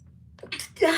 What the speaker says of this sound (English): oh my God, I gotta sneeze